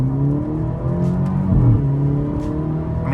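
Alfa Romeo Giulia 2.0L accelerating hard with very fast gear shifts, loud engine tone rising in pitch, briefly dropping at each quick shift, then climbing again.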